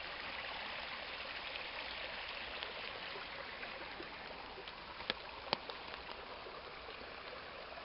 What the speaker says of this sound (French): Toujours en bordure du ruisseau.